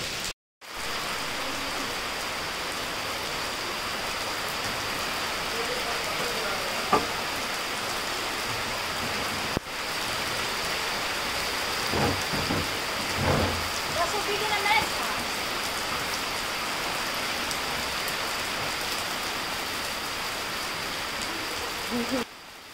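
Steady rain falls in the Sarakina gorge as a dense, continuous hiss of drops, with a few faint knocks and rustles. No thunder stands out.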